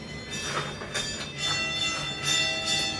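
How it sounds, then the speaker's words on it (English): Church bells in Porto, Portugal ring at noon in uneven, overlapping strikes, their metallic tones hanging over a low background rumble. "Oh, you guys can hear the church bells."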